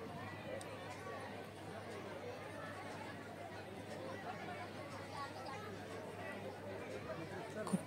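Dense crowd chatter fills the Khandoba temple at Jejuri, many voices overlapping into a steady, close hubbub with occasional footsteps and no single voice standing out.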